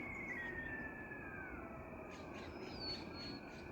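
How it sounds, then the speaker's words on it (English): A faint siren wails far off, its pitch slowly rising and falling over a low outdoor background hum. "In the distance there's sirens."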